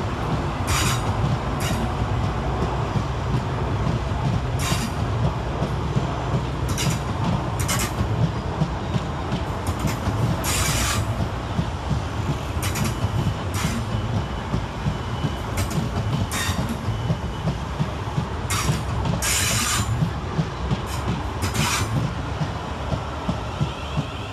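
South Western Railway Class 450 electric multiple units run through Clapham Junction on an Alton to London Waterloo service, a steady rumbling roll of wheels with repeated rhythmic clacks and squeals at regular intervals, moderately loud and without talk.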